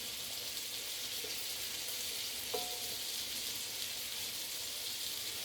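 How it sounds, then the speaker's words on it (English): Pork spareribs sear in a hot pan, giving a steady, fairly quiet sizzle with a couple of faint clicks, and no voices. "I'm just putting the ribs in. And we're just going to sear them, get a nice brown coating on them."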